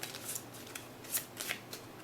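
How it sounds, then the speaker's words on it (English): A deck of game cards for Shadowrun Crossfire is shuffled by hand, with soft riffling flicks and several crisp snapping bursts at close range. "I'll shuffle these up."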